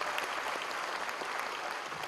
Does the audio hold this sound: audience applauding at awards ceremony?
yes